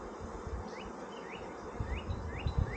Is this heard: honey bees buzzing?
yes